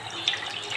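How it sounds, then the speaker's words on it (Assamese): A small amount of water streams into a wok in a brief, close, steady gush lasting under a second. "কেৰাহীটোত অকণমান পানী দিম।"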